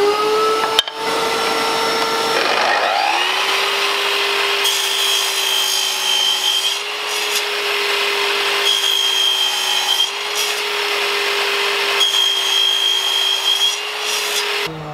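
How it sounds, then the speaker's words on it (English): A Festool mitre drop saw spins up and runs loudly and steadily alongside a vacuum cleaner, powered by a BLUETTI AC200 Max portable power station, with a brief start-up rise in pitch and a sustained whine throughout. "Let's try the Festool drop saw."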